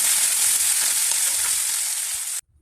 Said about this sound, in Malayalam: പച്ചമുളക് വെളുത്തുള്ളി ഇഞ്ചി വേപ്പില ഇത്ര സാധനങ്ങൾ അതിലേക്കിട്ട് നന്നായി മൂപ്പിച്ചെടുക്കുക